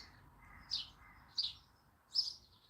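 Birds singing at a campsite: three short, faint chirps spaced evenly over a quiet, low background hum.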